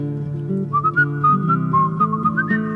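A person whistles a short, lilting tune close by, clear notes stepping up and down over a soft steady background tone.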